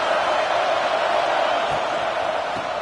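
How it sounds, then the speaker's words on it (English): A football crowd in a stadium roars in a steady, broad wash of voices as the defense lines up for a red zone stop. The crowd noise is loud and sustained, with faint whoops rising now and then. "This crowd is trying to inspire this defense to make a big red zone stop."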